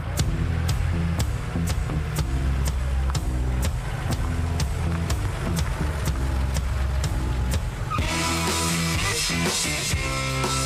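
Loud car engines rev and roar continuously with repeated sharp bursts, and a harsh hissing rush near the end like tyres spinning on tarmac, at a rubber-burning meet in Fife, Scotland.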